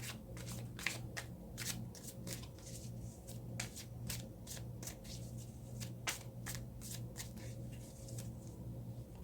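A deck of tarot cards is shuffled by hand in quick, crisp riffling bursts, repeated many times at close range and fairly quiet, over a low steady background hum.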